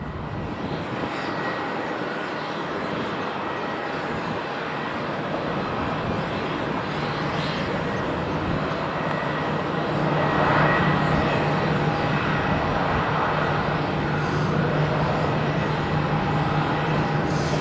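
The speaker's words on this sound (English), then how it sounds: "The 737 going back to Liverpool" A Boeing 737 airliner at Tenerife South Airport, bound for Liverpool, gives a sustained jet engine roar that holds steady and swells louder midway. It sounds moderately distant, with steady wind-like noise underneath and no one talking.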